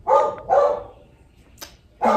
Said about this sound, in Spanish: El perro del vecino, lo siento.